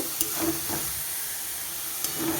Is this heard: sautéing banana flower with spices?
yes